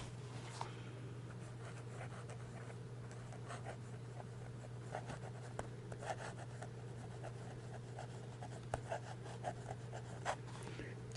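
A fountain pen with a medium steel nib writes on paper, making faint scratchy strokes in short irregular bursts, close up and quiet over a steady low background hum.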